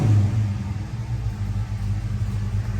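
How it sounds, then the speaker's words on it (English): A 1969 Pontiac GTO's engine runs with a deep, loud rumble up close, its idle throbbing steadily and swelling slightly at the start as it catches and settles. "when you go to start the car, you press this button and you turn the key at the same time."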